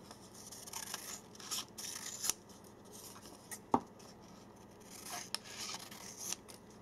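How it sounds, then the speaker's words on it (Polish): Scissors cut through paper stuck to a SIM card in a quiet room, giving a series of soft, close snips and rasping strokes spaced irregularly, with one sharper cut standing out midway. "pewnymi ruchami tniemy według tej kreski"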